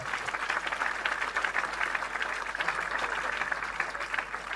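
Church congregation applauding together, a steady dense wash of clapping hands that holds at even loudness throughout, with no voices standing out.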